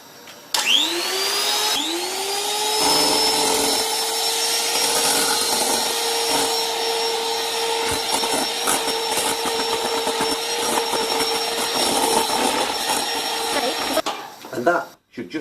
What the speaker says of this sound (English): I'm just going to give it a whiz up with the electric whisk now.